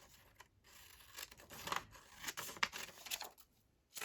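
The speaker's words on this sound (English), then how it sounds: "Now this one, let's trim this one." Scissors snip and rustle through paper trimmed for a craft collage, a string of short crisp cuts and crinkles close by, fairly quiet and with no talk.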